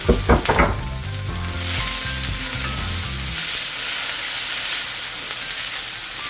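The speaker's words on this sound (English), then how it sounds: "Gonna let that saute." Vegetables saute in a large cast iron skillet, a steady loud sizzle and frying hiss filling the clip after a few sharp clatters at the start, with music playing underneath.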